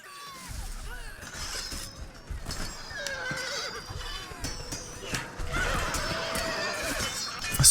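Horses whinny repeatedly amid a busy battle in the Shogun Total War strategy game, with clattering hooves and crashing clashes layered under the neighs, steady and fairly loud throughout.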